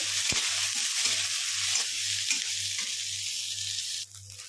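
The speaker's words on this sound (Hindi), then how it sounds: "इनको 5 से 6 मिनट तक भूनेंगे।" Chopped onion, ginger, green chili and garlic sautéing in a pan, a steady close sizzle with occasional stirring clinks and a low repeating hum underneath, easing off near the end.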